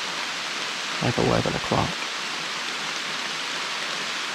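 Heavy rain pours down steadily on public land in Alabama during a hunt, a dense close broadband hiss throughout, with someone speaking briefly over it.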